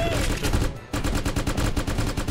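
Rapid, rhythmic turret fire from an indie video game pounds out in fast repeated bursts, loud and close, with one short pause before the stream of shots picks up again.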